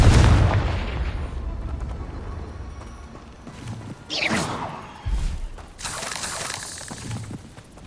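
A Confringo fire curse from Hogwarts Legacy bursts in a loud whooshing blast, followed by further booming impacts and crackling noise over a rumbling game background.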